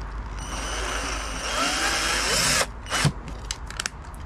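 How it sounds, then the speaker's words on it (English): A power drill bores through plywood while a homemade boat is being built, a loud whirring motor that ramps up and holds, then stops, followed by short bursts and mechanical clicks. "Try not to drill into your workbench or whatever surface you're working on"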